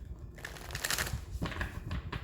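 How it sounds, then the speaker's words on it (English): A Moonology tarot deck being shuffled by hand, quick papery riffles and card slaps in short bursts, close and alone with no talk. "let me get a good shuffle from the Moonology deck"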